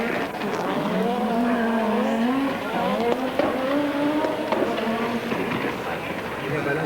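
Stig Blomqvist's Audi Quattro race car screams past at the 1988 Race of Champions, engine note rising and falling through gear changes with tyres skidding, loud and continuous over crowd noise and a commentator talking.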